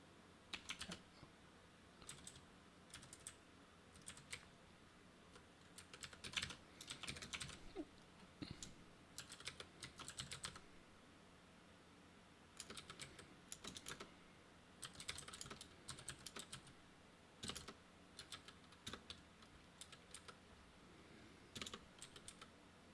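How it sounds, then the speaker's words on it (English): Keys clatter on a computer keyboard during software coding work, arriving in quick bursts of close, crisp clicks separated by short pauses over a quiet background. "I'll just type from scratch"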